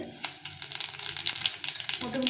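Dried red chillies and white cumin seeds hit hot oil for a Bengali magur fish curry, giving a steady close crackling sizzle with sharp pops and spits throughout.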